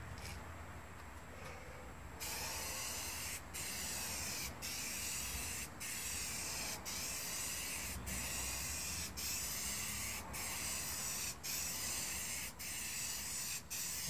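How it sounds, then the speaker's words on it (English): Steady hiss of spray paint going on in a light, even coat, broken by brief regular pauses, with a quieter stretch at the start. "I'm not spraying for coverage here, I'm just getting a nice, even, light coat on there."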